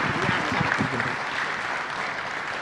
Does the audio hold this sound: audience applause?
yes